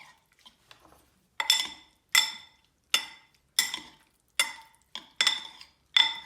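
Steak meat being mixed into a thick black bean marinade in a bowl, heard as a series of sharp clinking utensil scrapes against the dish, about ten strokes in a steady rhythm, close and alone with no talk.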